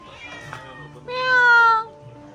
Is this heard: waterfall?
no